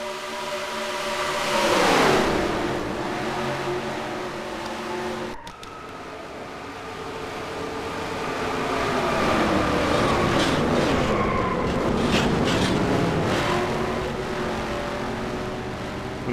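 Race trucks at Daytona in a racing video game roar past and crash at full speed, with engine tones sweeping down as they pass, a sharp impact, then more engine drones rising and falling.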